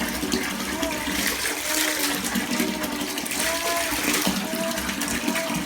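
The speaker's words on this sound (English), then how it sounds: "filling it up with enough water that it comes to like his ears" Water pours steadily from a tap into a bathtub for a baby's water therapy, a continuous splashing rush with a few bubbly gurgles, while a person talks softly nearby.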